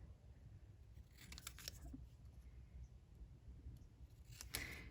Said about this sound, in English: I'm just going to trim this little thing up while I have it here.